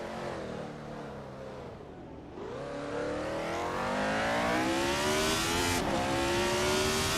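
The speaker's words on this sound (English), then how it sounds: "Pippi Langström is driving a 1975 Hesketh 308B" A 1975 Hesketh 308B Formula One car in a racing video game, its high engine note rising steadily through the gears, dipping once on a shift and then climbing again. The whine is loud and continuous, with no voices over it.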